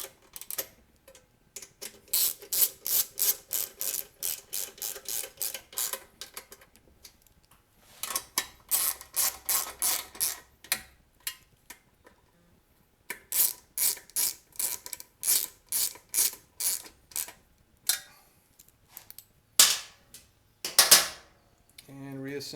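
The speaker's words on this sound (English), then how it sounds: "The Bosch impact driver I use to take the bolts off is great for removing these small bolts" A Bosch impact driver hammers at small bolts to remove them in repeated short bursts of rapid clicking, close and moderately loud, with pauses between bolts.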